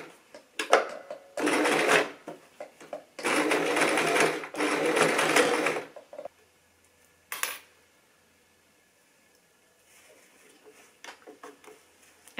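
A sewing machine stitches elastic onto a cotton face mask in three rapid whirring bursts, separated by short pauses, then light handling clicks and rustles of fabric.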